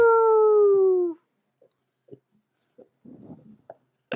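A person mimics a beagle with a single drawn-out, falling howl-like bark, loud and close, then trails off into scattered soft clicks and mouth noises.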